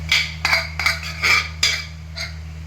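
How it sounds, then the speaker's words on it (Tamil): Spoon clinking and scraping against a pot as mashed potato goes into boiling black chickpea kurma, with about six distinct metallic knocks over a steady low hum. "இந்த மாதிரி கொதிக்கும் போது மசிச்ச உருளைக்கிழங்க போட்டுற வேண்டியது"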